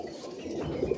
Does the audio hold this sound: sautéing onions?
no